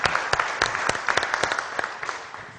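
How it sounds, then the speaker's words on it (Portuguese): Applause from a church congregation at a Baptist service, a dense wash of many hands with sharper individual claps popping through, steady and fairly close for the whole stretch with no voices. "Uma salva de palmas para ele, por favor"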